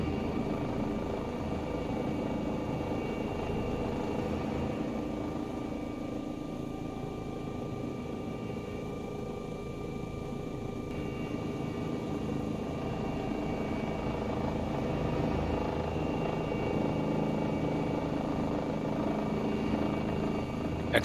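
An EC135 helicopter in the X-Plane flight simulator, its rotor and turbine engine producing a continuous droning whine with a low, steady beat. It stays loud and unbroken throughout, with no voices.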